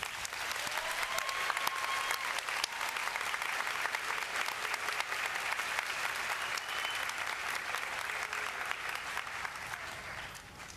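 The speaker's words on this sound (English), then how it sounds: "Please give them one more round of applause." A large crowd at a fall nursing pinning ceremony claps for the graduates in a long, dense, sustained ovation that stays loud and even for about ten seconds before easing slightly at the end.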